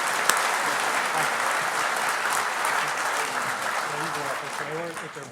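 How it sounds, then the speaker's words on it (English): A crowd claps steadily in a dense, sustained round of applause after an opening speech at the 2011 H2O-XPO, with a few voices faintly mixed in near the end. "give them all one more round of applause"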